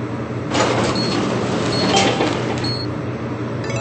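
Sliding lift doors closing in a Roblox elevator game, a steady mechanical whoosh lasting a few seconds with faint electronic chimes over a constant hum.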